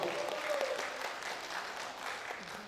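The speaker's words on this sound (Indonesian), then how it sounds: "Tepuk tangan dulu untuk budu kandung." Audience clapping at a regional association meeting event in Dumai, a steady dense applause filling the room for nearly three seconds, loud and continuous with a faint voice drifting underneath.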